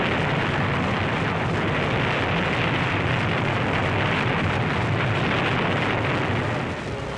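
Bombs exploding during Luftwaffe air attacks on Allied supply ships off Sicily in the Second World War, heard as a dense, continuous roar of blasts and rumble that stays loud throughout with no talk.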